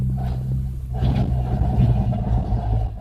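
A car with a bad gearbox rolls in reverse, giving a steady low engine rumble and drivetrain drone with a slight rise in pitch midway, close and continuous, with no talk.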